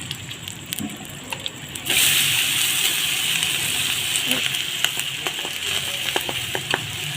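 Boiled rice added to a pot for mutanjan, the sweet Pakistani wedding-style zarda, is stirred and fried, with a steady sizzling hiss that swells after two seconds and faint scraping clicks of a spoon throughout.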